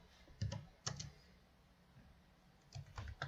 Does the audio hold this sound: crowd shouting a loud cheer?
no